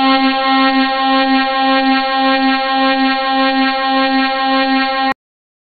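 A Tucanos alarm siren sounds a steady, loud, buzzy tone with rich harmonics, holding unchanged for about five seconds before cutting off abruptly.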